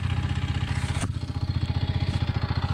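A Kawasaki W230 motorcycle rides over sandy ground, its engine thumping in a steady, even pulse close by, with a brief clatter partway through.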